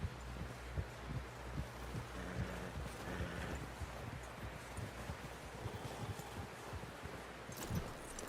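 Horse hooves clip-clop in a steady walking rhythm, close and distinct, over rustling ambience in the Red Dead Redemption 2 video game, with no speech.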